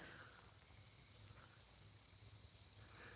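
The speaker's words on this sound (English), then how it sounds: "Got the crickets chirping" Crickets chirp steadily through the night air, a continuous high insect trill holding unbroken for the whole stretch with no voices over it.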